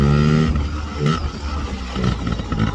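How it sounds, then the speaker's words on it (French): A small Yamaha PW50 (PeeWee) motorcycle riding off and accelerating, its engine revving in rising whines with brief gear-change dips, close and fairly loud. "Donc là on va faire un peu de moto."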